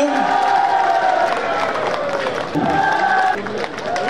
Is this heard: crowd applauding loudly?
yes